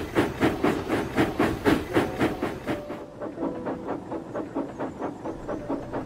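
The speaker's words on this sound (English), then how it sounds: "Thomas's driver was given the all clear, and Thomas's train set off again." A steam locomotive chuffs in a steady rhythm of loud hissing puffs, fading slightly and growing more distant partway through.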